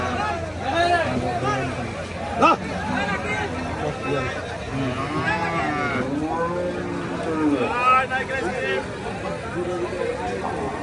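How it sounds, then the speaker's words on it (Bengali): Sahiwal cattle at the Hazratpur livestock market, with occasional low moos rising from a dense, loud hubbub of nearby voices and market chatter. "আজকের হযরতপুর হাটে খুব সুন্দর সুন্দর শাহিওয়াল গরু উঠছে"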